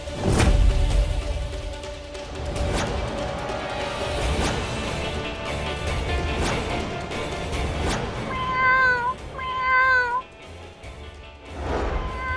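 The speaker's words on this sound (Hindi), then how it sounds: "वरना बिल्ली अंदर आ जाएंगी" A cat meows in a house, with several clear, drawn-out cries near the end following background noise and clatter.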